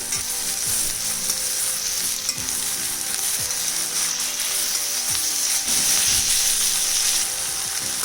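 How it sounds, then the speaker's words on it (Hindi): Roughly chopped tomato and onion fry steadily in a pan for a Gobi Matar masala gravy, giving a continuous loud sizzle with occasional scraping stirs of a spoon. "टमाटर को भी मैंने रफली चॉप कर लिया, ये भी इसको डाल देते हैं। इसको भी 3-4 मिनट भून लेते हैं।"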